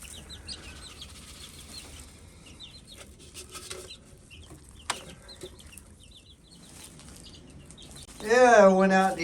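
Young chickens, including a chunky Cornish hen, cheep and cluck softly in small scattered bursts. One brief knock sounds midway, and a louder squawking call comes near the end.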